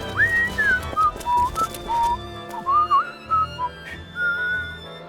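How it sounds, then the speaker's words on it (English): A character in the video game Star Ocean 5 whistling a short, wandering melody of distinct notes and pauses, clear and close, with a soft musical background underneath. "Stop that whistling immediately! You'll attract snakes!"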